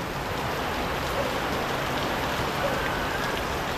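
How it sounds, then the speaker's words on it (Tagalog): Heavy rain pours down steadily, a dense, loud, unbroken hiss of drops on surfaces with no pauses or other sounds rising above it. "Ay lakas po talaga ng ulan."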